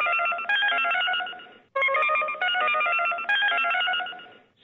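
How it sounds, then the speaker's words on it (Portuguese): An old-style telephone rings in the video game Unforgiving: A Northern Hymn, giving three loud, close electronic ring bursts, each lasting over a second with brief gaps between, and no talking. "eu tenho que apagar o fósforo pra atender o telefone"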